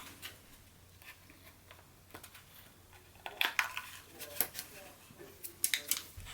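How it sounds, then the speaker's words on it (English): Scissors snip through cured expanding spray foam shaped into a skull: quiet handling at first, then a run of sharp, close crunching snips and clicks in the second half. "I am going to cut a little space right here so that it's easier to pull out. And I can do that with the scissors"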